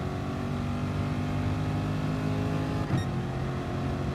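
A race car in Gran Turismo Sport powers out of a corner, its engine a loud, sustained high-revving whine with a brief gear-shift blip near the end, and nobody talks over it.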